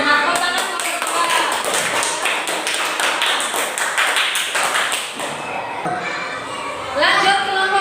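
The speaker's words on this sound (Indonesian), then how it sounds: "Tepuk tangan kelompok" Students in a classroom give a group round of applause after a presentation, a dense burst of clapping that carries on steadily for several seconds, with children's voices chattering underneath.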